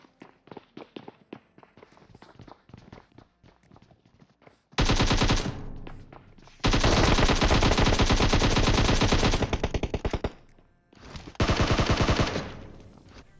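Automatic gunfire from a PUBG Mobile match: scattered single shots early on, then three long, loud bursts of rapid machine-gun fire separated by short pauses.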